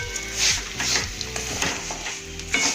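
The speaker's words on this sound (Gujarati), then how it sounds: "બરાબર હલાવવાનું છે, જેથી કરીને લોટના અંદર ગાંઠો ના પડી જાય." A spoon stirs a flour mixture in a pot for pahadi dal, giving repeated scraping, swishing strokes over a steady background sizzle, close and moderately loud.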